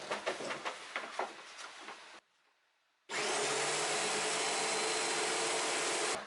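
Homemade wood lathe powered by an electric lawnmower motor: a rough workshop clatter, a short near-silent pause, then the motor starts and runs with a steady loud whirring hum to the end.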